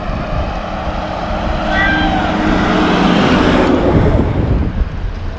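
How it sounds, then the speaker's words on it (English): Road traffic passes on a street on Favignana island, a steady mix of car and truck engine noise that swells louder midway and then eases off, heard close up with no clear talk. "Got all kinds of traffic here."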